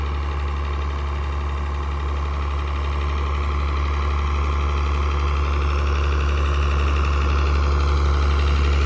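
An engine-driven pump draws water out of a wet pond-digging site, a loud steady drone with constant vibration and no change in pace, nearby and unaccompanied by talk.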